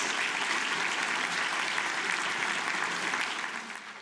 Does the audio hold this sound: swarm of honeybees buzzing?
no